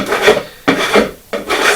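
A scraper drags thick paint off a canvas, three long, harsh rasping strokes close by, each separated by a short pause, with no voices.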